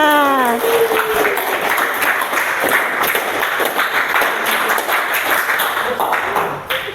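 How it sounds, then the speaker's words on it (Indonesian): A school class applauds, dense rapid clapping from many hands close by that runs steadily throughout, opening under a voice and tapering slightly at the end. "Tepuk tangan untuk kalian semuanya"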